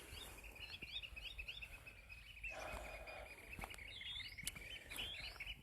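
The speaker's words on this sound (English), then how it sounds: "These birds are really loud." Birds chirp and trill outdoors in a quiet natural setting, repeated high calls over a soft, faint background hiss of wind and leaves, with no voices.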